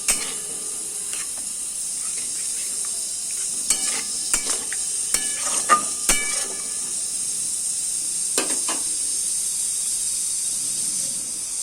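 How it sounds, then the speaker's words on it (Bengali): A mustard and Kashmiri chilli spice paste with a little water fries in a pan for a bhola fish curry, a steady soft sizzle broken by sharp scraping stirs and small pops. "জল দেওয়ার পরে একটু মশলাটা ভালো করে আবার ভাজা ভাজা করে নেব।"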